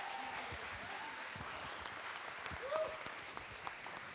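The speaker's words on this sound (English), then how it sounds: "please just join me one final applause for our finalists and winners tonight" Applause from an audience at the Milford Miami Township WHAMM! Awards honouring finalists and winners, a steady wash of clapping from a crowd that stays even throughout, with no talk over it.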